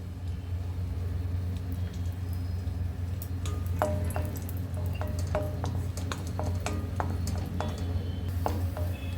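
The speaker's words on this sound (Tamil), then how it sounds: "அடுத்து கிஸ்மிஸ் வறுத்துக்கலாம்" Raisins frying in ghee in a pan, a soft steady crackle with many small popping ticks spread over a low constant hum of the stove.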